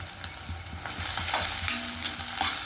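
Turmeric fries in a pan for a Ponnaganti Kuura greens dish, a close, busy sizzle with quick stirring scrapes and clicks over a few seconds and no talking.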